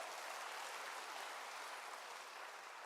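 A church congregation at a GBI sermon applauds, a dense, even wash of many hands clapping together, steady and moderately distant, without a break for the few seconds it lasts.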